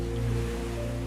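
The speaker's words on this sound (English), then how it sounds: "the waves crashing on the beach" Ocean waves break on a beach beside a rock pool, heard as a steady low roar with a constant tonal hum from passing traffic underneath, moderately loud and continuous without voices.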